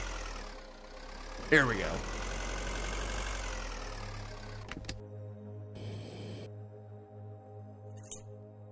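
An engine runs in the video game Breathedge as a steady low humming drone that changes tone partway through and is followed by a few clunks, with someone briefly speaking over it.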